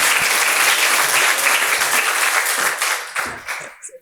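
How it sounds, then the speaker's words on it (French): A conference audience gives a warm round of applause, full and steady clapping from many people that tapers off into a few scattered claps at the end. "Oui, je pense qu'on peut applaudir Elsa."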